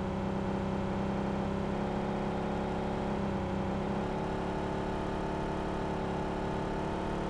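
A car engine in a video game drones on at a steady, close, buzzing hum, its pitch shifting slightly midway as if easing off the throttle, with no speech over it.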